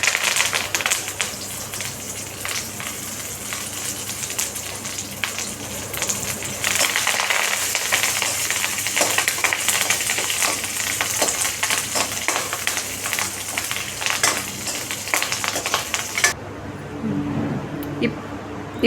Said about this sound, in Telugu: ఇప్పుడు నూనె వేడెక్కాక కరివేపాకు అండ్ ఒట్టి మిరపకాయలు అంటే ఎండుమిర్చి వేయాలి.